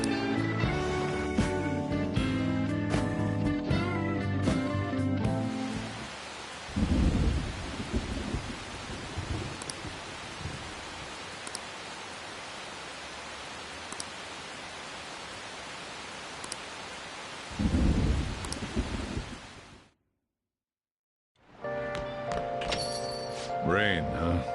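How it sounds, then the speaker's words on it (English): Steady rain hiss in Persona 5 Royal, broken by two deep rolling thunder rumbles. Music plays at the start and returns after a short silence near the end. "Rain, huh?"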